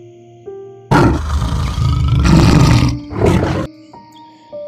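A lion gives a loud, close roar that swells and rumbles for a couple of seconds, breaks briefly, then surges again before cutting off, standing alone over a quiet background.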